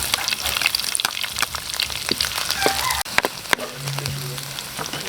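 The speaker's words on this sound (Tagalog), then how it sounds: "Ayan, nagisa na natin na yung ating bawang at sibuyas." Garlic and onion sauté in a pan for beef bistek, a steady close sizzle with crackling pops and an occasional clink of a utensil stirring.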